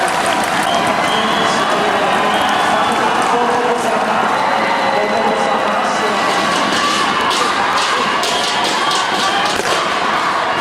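An audience at a Democratic Party presidential convention debate in Surabaya applauds the party's presidential candidates, giving loud, sustained clapping and cheering that fills the whole stretch.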